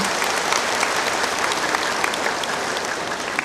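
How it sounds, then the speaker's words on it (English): A large audience claps warmly as a speaker on global warming comes up to the podium, a loud, dense and sustained wash of applause filling the whole stretch without pause. "Please give him a very warm round of applause as he comes up to the podium."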